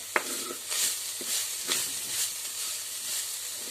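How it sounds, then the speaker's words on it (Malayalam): Carrot upma ingredients with curry leaves stirred in a pan, Kerala-style cooking: a low steady sizzle with a few soft scraping strokes of the spoon, fairly quiet and close, no talking. "നമുക്ക് നന്നായിട്ടൊന്ന് ഇളക്കാം"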